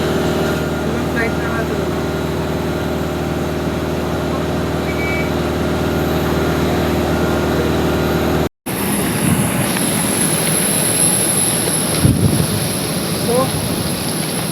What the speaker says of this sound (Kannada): ಇದೊಂದು ಫ್ಲೈಟ್ ಅದ